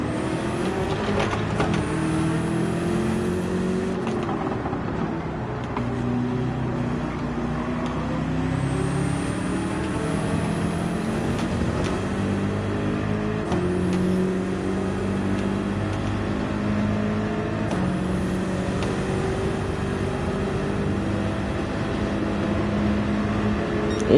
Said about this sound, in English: That does not sound like the 296 exhaust